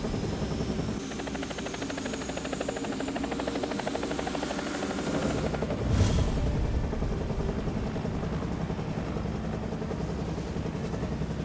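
A military helicopter lifts off and flies, its rotor beating in a steady, dense chop with a deep engine drone, loud and continuous throughout with a brief swell midway.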